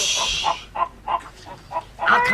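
Chicken squawking in short repeated bursts, about seven clucks spaced roughly every third of a second, fairly close and alone over a faint background.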